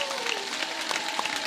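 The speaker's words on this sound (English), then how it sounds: "Clap it up, clap it up" Audience clapping at an evening gathering on the MOVE bombing, a dense steady patter of many hands with some crowd voices mixed underneath.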